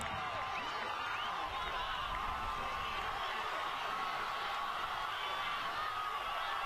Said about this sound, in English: Hear the cheers of the hundreds, if not into the low thousands, that are here to cheer on teammates, friends, relatives